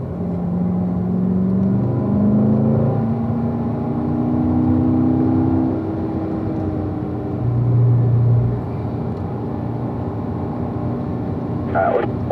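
A gray number 86 Corvette C06 drives by on a racetrack at a Grand Sport driving school, its engine rumbling steadily with rising and falling pitch as it passes at moderate distance.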